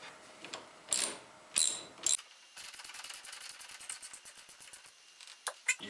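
A wrench, likely a ratchet, works loose a 19mm steering wheel nut, giving a few louder clanks and then a run of quick, faint clicks close by.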